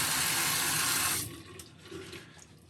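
Water runs steadily from a bathroom tap as hands are wetted at the sink, a loud close gush for about a second before it cuts off, leaving quieter splashing and dripping.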